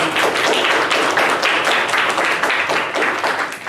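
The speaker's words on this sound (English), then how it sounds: "Can I get a quick round of applause for our wonderful candidates here?" Audience at a Florida Atlantic student gubernatorial debate applauding the candidates, a dense steady wash of many hands clapping at close range, sustained without pause for the whole stretch.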